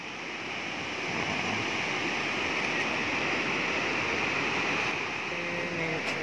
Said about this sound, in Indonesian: Ini air terjun Pukuroda di Ibarakikeng.